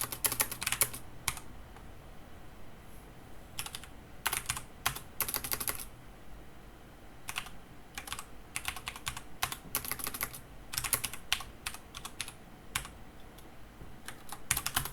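Rapid bursts of typing on a computer keyboard while writing simple program code, clicky keystrokes in uneven clusters with short pauses, close and fairly quiet.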